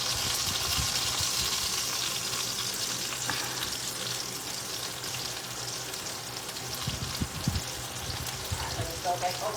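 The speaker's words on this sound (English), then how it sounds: "I hate that when it splatters on the stove." Chicken and shrimp alfredo sizzles and splatters in a pan on the stove, a steady loud frying hiss throughout with scattered pops and bubbling bursts near the end.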